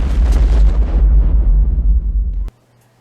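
A bomb explodes in the film Jingle All the Way, a loud, deep rumbling blast that roars for a couple of seconds and then cuts off abruptly into near silence.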